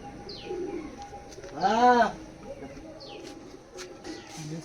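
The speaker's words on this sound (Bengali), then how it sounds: "এই সেই কবুতর বন্ধুরা দেখো এত রৌদ্রের মধ্যে কবুতর অলরেডি হাঁপিয়ে গেছে" A kalduma pigeon out in hot sun gives one clear, close, rolling coo in the middle, with faint scattered chirps and quiet background noise before and after.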